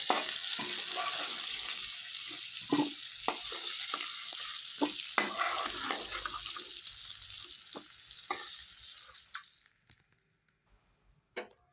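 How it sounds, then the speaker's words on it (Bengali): Vegetables frying in a pan for khichuri with stale rice, a continuous close sizzle punctuated by regular spatula scrapes and taps, fading quieter toward the end. "সবজিটাও ভাজা হয়ে গেছে এবারে তুলে নেবো"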